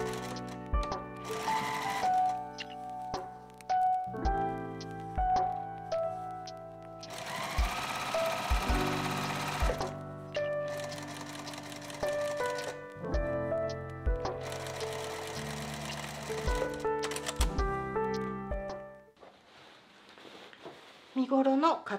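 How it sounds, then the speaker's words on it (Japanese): A sewing machine stitches the shoulder seam of a high-neck jacket bodice, running in several bursts of rapid mechanical whirring separated by short pauses, with someone speaking between runs. "身ごろの肩を縫います。 中表で1センチで縫っていきます。"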